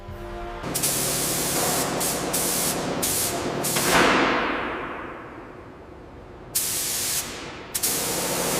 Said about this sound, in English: The massive KV-2 turret receives its protective coat of 4BO green paint